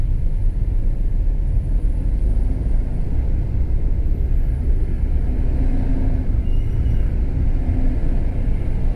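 Heavy road traffic on Marcos Highway: a loud, steady low rumble of engines and tyres close by, continuous with no break and no voices.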